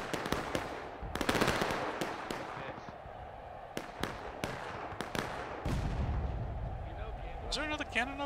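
Cannon and artillery fire in the War of Rights video game during a historical battle on Miller's Cornfield, with repeated sharp booming shots near and far, a dense burst of blasts early on, and voices talking in the background.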